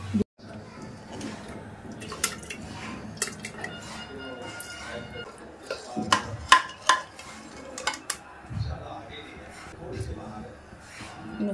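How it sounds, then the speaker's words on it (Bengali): Cooked mutton scraped and tipped from a kadai wok into a pressure cooker, with intermittent metal clanks, scrapes and drips, close and moderately loud, while a person talks over it. "যা আছে সব একদম কড়াই থেকে ট্রান্সফার করে দিলাম কুকারের মধ্যে।"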